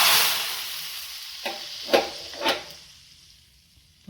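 Hot oggarane tempering with dried red chillies and a pinch of asafoetida hits the sambar with a few short hissing sizzles, fading quickly into quiet.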